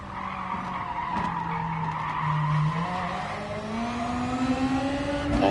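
A VW Beetle races in the game GT Sport, its engine droning steadily with a rising pitch while tyres squeal and skid through corners, loud and continuous with no talking.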